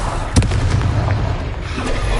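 Confringo fire spell explosions in a Harry Potter video game, a dense rumbling barrage of booms and blasts with a heavy low-end roar, loud and continuous.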